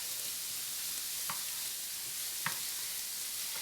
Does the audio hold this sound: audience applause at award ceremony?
no